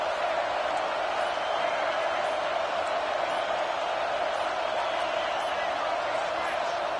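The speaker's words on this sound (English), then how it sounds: "Fans are bringing the noise on 1st and goal." Home crowd roaring in an NCAA football video game, a dense, constant wall of noise that holds steady and loud throughout with no breaks.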